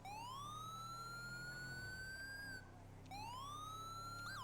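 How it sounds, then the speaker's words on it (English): A police car siren in GTA V wails with a rising tone, cuts out briefly, then starts climbing again, loud and close over a low engine hum. "the sirens on"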